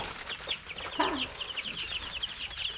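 Young chickens peep and cluck inside a zip-up carrier bag with a net top, rapid high chirps repeating throughout, close and fairly soft, with a brief lower cluck in the middle.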